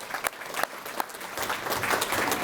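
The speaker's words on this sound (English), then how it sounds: "Let's give him a round of applause." An audience at a children's reading challenge awards ceremony during a summer festival claps for a young award winner, a few sharp claps building into fuller steady applause.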